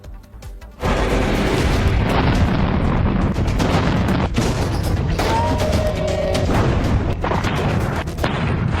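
Explosions in a news report, a sudden loud onset of dense rumbling blasts and crackling booms that continue unbroken for several seconds with sharp bursts throughout.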